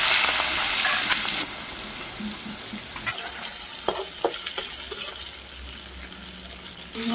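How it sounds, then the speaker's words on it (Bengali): Shrimp frying in hot white oil in a kadai. A loud sizzle at first settles into a softer hiss, broken by scattered clicks and scrapes of stirring, with no one speaking. "চিংড়ি মাছগুলো ভাজা হয়ে গেছে।"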